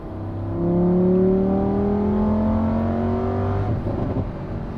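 A Lamborghini Huracan Sterrato engine revs up with a rising, droning tone whose harmonics climb steadily, loud and close, holding a strong sustained roar before easing off near the end.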